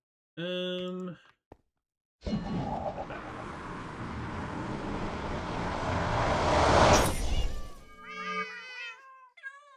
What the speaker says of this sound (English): The cats, they're loud.